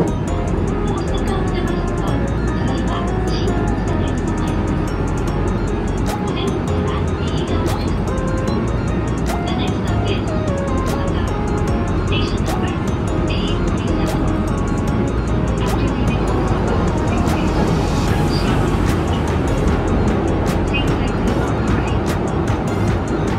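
A JR West Special Rapid train running at speed just after leaving Amagasaki, a steady loud rumble of wheels and motors with a broad low roar throughout, continuous and close, with no talk.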